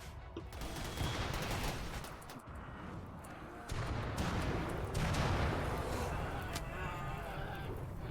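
Dense gunfire from mechs and colonists in a RimWorld battle, a steady crackle of overlapping shots running through the whole stretch with a louder burst midway.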